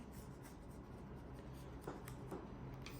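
A disappearing-ink fabric pen traces around a sewing pattern piece pinned to fabric, making a steady, soft scratching that runs without a break.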